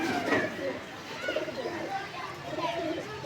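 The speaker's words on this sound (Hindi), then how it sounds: "दूर से कोई भी परिंदा होगा तो उसको भी नज़र आता रहेगा कि यहाँ पे भी किसी ने कबूतर रखे हुए हैं" Pet pigeons on a rooftop perch coo softly in repeated low murmurs, with someone talking over them and faint outdoor background noise.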